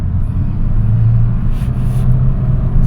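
A 2009 Honda Fit engine, diagnosed for a P0138 oxygen sensor fault, revs up in a steady low rumble with a rising drone, heard close and loud from inside the car, no talk.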